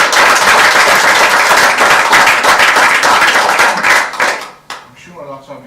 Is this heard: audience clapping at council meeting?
yes